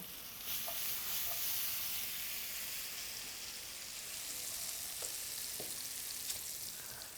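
Aberdeenshire beef cheek sizzling in a pan during a cookery demonstration at the Royal Highland Show, heard as a steady, faint, hissing fry running alone throughout.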